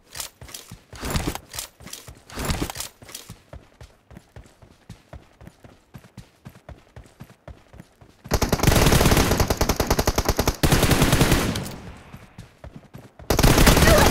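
Gunfire in a PUBG team deathmatch, with rapid automatic bursts and single shots cracking close and loud, building into long sustained volleys of dense firing toward the end.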